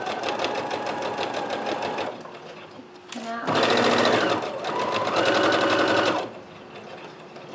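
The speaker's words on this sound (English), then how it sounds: "I'm going to sew right on that line." A sewing machine stitches a pleat seam in fabric, two steady rapid runs of needle rattle separated by a brief pause and a short reverse, close and loud.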